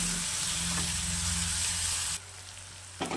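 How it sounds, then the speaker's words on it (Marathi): Ginger garlic paste fries in a pan with a dense, close sizzle over a low hum. The sizzle drops to a quieter hiss partway through, then a spoon knocks against the pan at the end. "आलं लसूणची पेस्ट, आलं लसूणचा कच्चेपणा जाईपर्यंत मी यामध्ये ही परतवून घेणार आहे"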